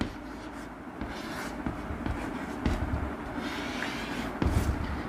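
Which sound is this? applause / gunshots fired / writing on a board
writing on a board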